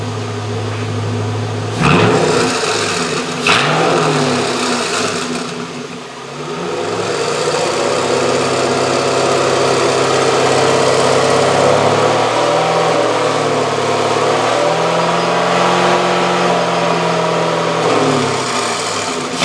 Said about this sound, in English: I'm going to just pump it with a little bit of gas and we can take a listen to it.